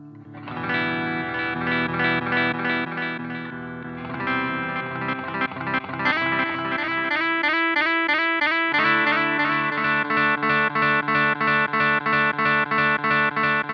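An electric guitar runs through a Chase Bliss Onward pedal with its glitch effect on. Held notes are chopped into rapid stuttering, repeating fragments that pulse rhythmically and build toward a dense, even loop, loud and up front with no talking.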